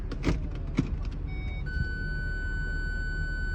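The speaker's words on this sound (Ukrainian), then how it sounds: "Моторчик працює красиво." A Land Rover Discovery engine idling smoothly, a low, steady hum close by, with a few light clicks and taps early on, then a thin electronic tone from inside the car.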